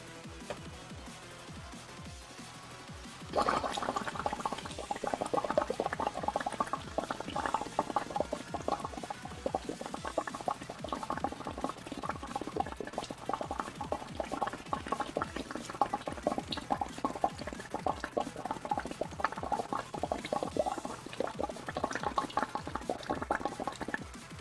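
Steady, close bubbling from air blown through a straw into a liquid, a continuous gurgling patter that starts abruptly a few seconds in and runs without a break to the end, with no talking.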